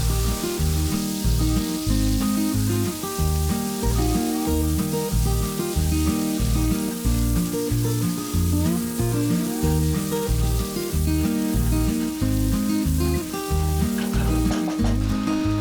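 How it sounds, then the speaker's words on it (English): Thinly sliced garlic and chopped red chilies fry in oil in a pan for Indonesian nasi goreng. A loud, steady sizzle fills the whole stretch, with a rhythmic musical backing running underneath. "add oil. Add 4 garlic cloves thinly sliced. 2 mini red hot chilies chopped and then fry it for a minute."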